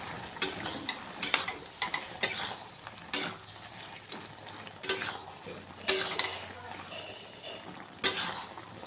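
A utensil stirs turmeric powder into mixed vegetables in a pan, giving intermittent scrapes and clinks against the metal over a faint sizzle, with a soft voice in the background.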